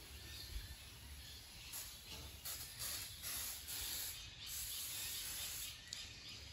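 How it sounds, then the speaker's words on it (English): WD-40 sprayed onto the plastic panels of a Rover lawnmower: soft, quiet aerosol hissing in several short bursts, close by and fairly faint. "the final thing I like to do is to rejuvenate all of the plastics with a bit of WD-40"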